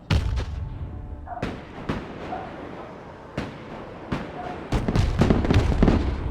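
Missiles fire in the video game Broken Arrow as a series of sharp booms and blasts spread irregularly through the clip, loud and close, with a denser rumble of launches near the end.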